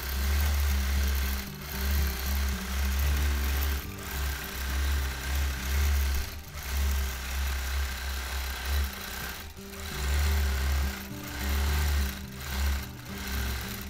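A sewing machine doing free motion quilting runs in loud, steady rhythmic bursts of stitching with brief pauses between runs, close and alone.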